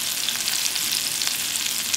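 Hairtail fish fries over low heat in a pan with oil, giving a steady, close crackling sizzle with no pause and no talk.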